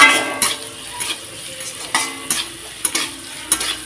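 Fried ridge gourd peel being stirred with salt in an oiled pan, with a close, loud sizzle and regular spatula scrapes and knocks against the pan roughly every half second.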